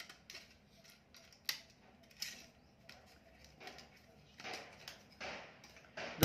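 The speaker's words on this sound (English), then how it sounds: "I have this plastic. I will cut in the middle" Scissors snip through a plastic sheet while preparing to protect a guitar's paint, giving a handful of short, crisp cuts spaced irregularly and fairly quiet, with light handling rustle between them.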